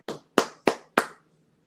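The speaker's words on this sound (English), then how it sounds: "We need a round of applause for that" Four distinct hand claps in quick even succession, close and dry, then silence; a small burst of applause during an online webinar.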